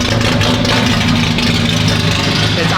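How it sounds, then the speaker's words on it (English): A Datsun 280Z engine, long abandoned and now running again, idles on its own with a loud, steady, choppy low rumble that holds close and continuous throughout. "It's idling on its own."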